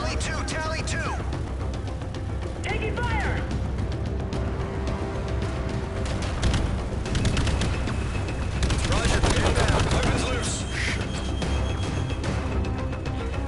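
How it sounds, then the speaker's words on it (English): Dense, continuous machine gun fire from an aircraft in the VR game Call of Duty Infinite Warfare, mixed with booms and explosions, loud and sustained throughout. "I would probably have fucked up my mothership with all this machine gun fire"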